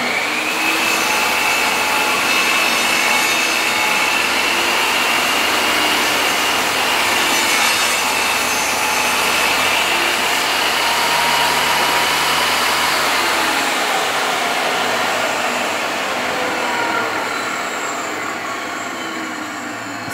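A saw blade rips through wood while cutting parts for a beehive inner cover, a loud continuous rasping whine that holds steady for the whole stretch with no talking.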